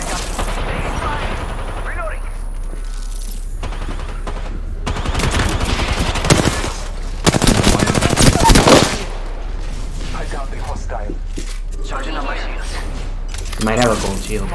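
Bursts of rapid gunfire from the video game Apex Legends crackle in clusters, heaviest in the middle of the clip, with players talking over the action.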